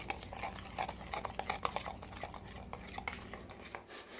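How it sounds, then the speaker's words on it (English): A spoon stirs a cinnamon ham glaze in a bowl, giving quiet, irregular scraping and clinking taps close by, repeated steadily over a few seconds with no talking. "Let's stir that up"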